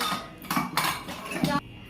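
Small metal utensils clink and scrape together in several quick bursts, close by, with a steady background hiss and no voices.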